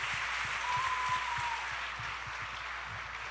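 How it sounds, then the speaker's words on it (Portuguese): A church congregation gives a round of applause for the worship team, a soft, fairly distant patter of hands with a brief tonal whine partway through. "Uma salva de palmas para essa equipe também"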